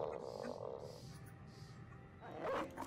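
Dog barks and yips from a fantasy battle in the Battle Brothers video game, a few sharp calls near the start and a louder burst toward the end, set amid game combat noise.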